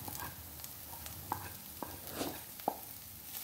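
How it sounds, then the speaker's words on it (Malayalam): Turmeric and pepper powder being stirred into frying vegetables for a thoran: a soft, quiet sizzle with a few sharp spoon scrapes and taps on the pan. "പൊടികൾ ചേർത്തൊന്ന് ഇളക്കി"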